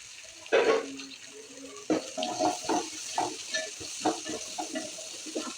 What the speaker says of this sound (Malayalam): ഇപ്പോൾ നമ്മൾ അരി വെച്ചിരിക്കുന്ന കുറച്ച് സവാളയും കുട്ടിയായിട്ട് കുറച്ച് വെളുത്തുള്ളിയും ഇതിലേക്ക് ചേർത്ത് കൊടുക്കാം